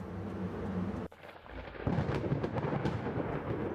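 A video game thunderstorm rumbles loudly over steady rain hiss, cutting out briefly before a fresh roll of thunder swells back in among the pattering downpour.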